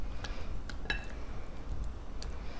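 A utensil stirs potato salad dressed with red wine vinegar and olive oil, giving a few light clinks and soft scrapes against the bowl over low background noise.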